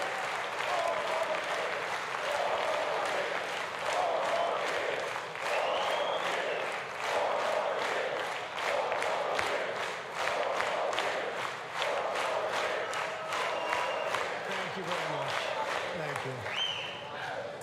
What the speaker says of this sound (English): Certainly more muted applause than we are used to seeing